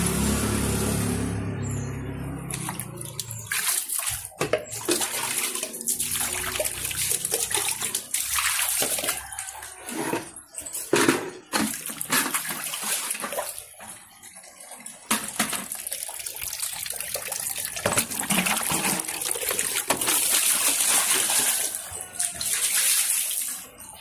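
Water is splashed onto a house doorstep, pouring in repeated bursts close by, a steady wet rush with uneven surges and no voices.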